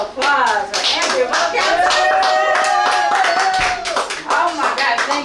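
Audience applause for poet Andrea "Vocab" Sanderson at a wildfire-themed reading, a steady, loud burst of many hands clapping close by, with voices cheering and talking over it throughout.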